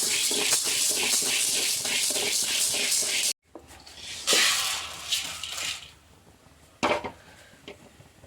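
A steady dry rattling and scraping sizzle of split chickpeas stirred in a pan as they are dry-roasted, then quieter scattered clinks and shuffling.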